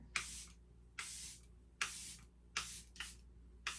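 Five short bursts from a spray bottle hiss close by at a roughly regular pace, each a brief sharp mist with quiet gaps between.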